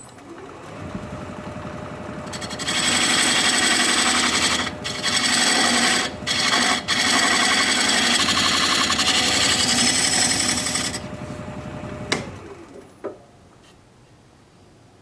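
A diamond point tool cuts spalted sycamore spinning on a wood lathe, squaring a tenon: a loud, steady scraping whir holds for about ten seconds, with brief dips as the tool lifts, then stops, followed by a couple of faint knocks.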